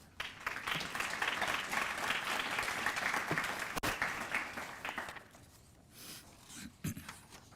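Audience at a journalism college scholarship recognition brunch applauding a scholarship recipient, a sustained round of clapping that fades out after about five seconds, leaving a quiet room with a few stray sounds.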